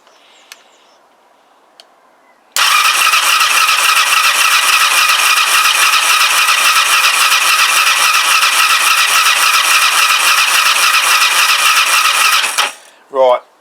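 A Kawasaki GPZ500S motorcycle engine cranks on its starter during a compression test on cylinder number 1, giving a loud, even, whirring drone for about ten seconds before it abruptly stops, close up.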